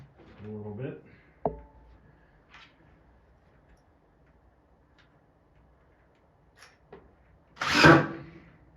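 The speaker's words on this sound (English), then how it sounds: "so I'll use my hammer and pry it away from the wall a little bit" A hammer pries wood wall framing away from a basement wall during a remodel, giving a sharp knock, scattered light taps and creaks, then a loud scraping, splintering burst near the end, with a brief voice at the start.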